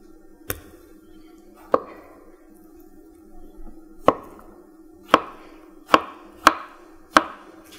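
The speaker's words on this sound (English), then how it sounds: "So I like to cut this radish into bite size." A knife cuts well-cooked radish from beef short rib soup into bite-size pieces on a board, with about seven sharp, separate chops spaced unevenly in a quiet setting.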